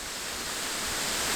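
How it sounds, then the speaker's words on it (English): Steady broadband rush of Bridal Veil Falls, a roadside waterfall in North Carolina, a constant close hiss of falling water with no pauses, heard alone. "It's a pretty waterfall."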